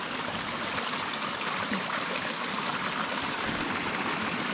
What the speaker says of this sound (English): That's got a good trickle of water now.